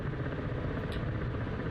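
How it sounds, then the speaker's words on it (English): A Ka-50 Black Shark helicopter sits on the ground in a flight simulator as it begins to take off. Its engine and rotor make a steady, close, even whir with no speech. "typically people want to take off this helicopter like a plane"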